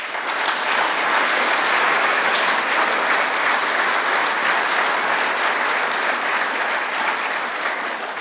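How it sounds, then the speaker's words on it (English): Sustained applause from the audience at a Hampshire Ornithological Society annual general meeting, a dense, even roar of many clapping hands lasting several seconds and fading slightly at the end. "so give them a round of applause"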